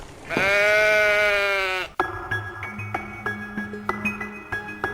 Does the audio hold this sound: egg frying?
no